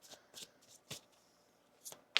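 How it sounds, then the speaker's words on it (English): Tarot cards are shuffled close up in a few soft, quick bursts of riffling, with quiet pauses between them. "One more shuffle here."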